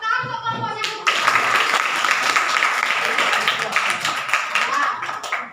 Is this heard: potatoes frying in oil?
no